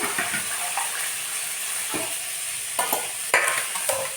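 Water hits a hot kadai before chopped greens go in, a loud close hiss and sizzle with bursts of scraping and clatter from a utensil, rising sharply near the end, no speech.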